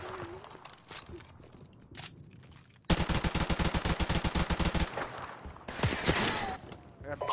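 AK rifle gunfire in a first-person shooter game, a sudden loud burst of rapid shots lasting about two seconds, followed by scattered single shots and game sounds.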